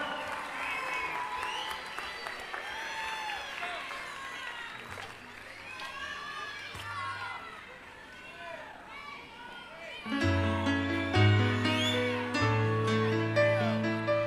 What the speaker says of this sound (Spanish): Fuerte el aplauso para Carla.